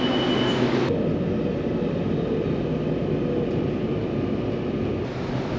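A train sits idling at a station platform, waiting to let another train pass, with a steady low rumble and hum that stays loud and continuous throughout.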